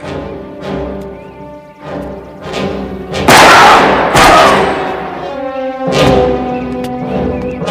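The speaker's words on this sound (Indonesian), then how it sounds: "Tanpa tendeng aling-aling, Donna langsung menembak perutnya." Gunshot in a film scene where a woman shoots a boss in the stomach at his home: loud, sharp broadband blasts with a heavy thump, standing out over a tense musical score.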